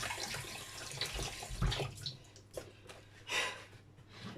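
Carrots rinsed under a running kitchen tap, a soft, uneven splashing and trickling of water with small bursts as the vegetables are turned in the stream, faint and close.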